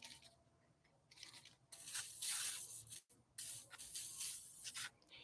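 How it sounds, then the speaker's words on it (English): WD-40 hisses from an aerosol can onto a laminate surface in two bursts separated by a short pause, close and fairly quiet. "So I'm going to put WD-40 on it right now."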